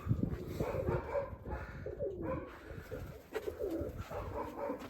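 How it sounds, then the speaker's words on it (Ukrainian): A grey female pigeon and others in an outdoor Kamianske pigeon yard coo in repeated low, throaty phrases, near and moderately loud, with faint background noise. "Сіра голубка."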